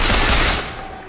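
A quick burst of rapid gunfire in Bioshock Infinite, loud and dense, fading into a ringing tail after about half a second.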